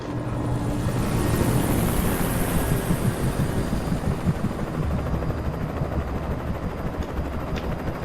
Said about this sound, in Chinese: 哇，连直升机都出现了